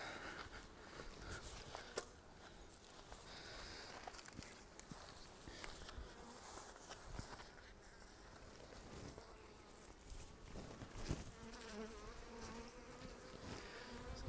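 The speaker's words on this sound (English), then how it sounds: "So the bees are just starting to go for me." Honey bees buzz steadily around an open hive during a brood inspection, a dense continuous drone close to the microphone with faint handling and footstep-like sounds beneath.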